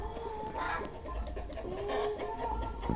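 Roosters and hens cluck and call in a muddy farmyard with peacocks nearby, moderately close, over a steady outdoor background.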